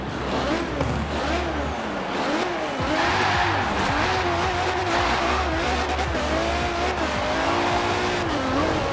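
Mercedes-AMG E63 Brabus with nearly 1,400 horsepower drifting in Forza Horizon 4, tires squealing continuously over a loud revving engine, sustained and close with no talk.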